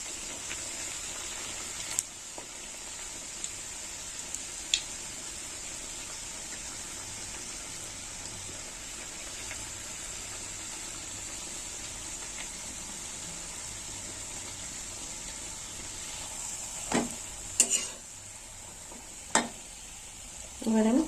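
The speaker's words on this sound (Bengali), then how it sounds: "তেল গরম হয়ে গেছে, এবার আমি কচুরিটা দিয়ে দেবো।" Carrot kachuri frying in hot oil in a kadai makes a faint, even sizzle throughout, with a few sharp clatters near the end as they are turned and lifted.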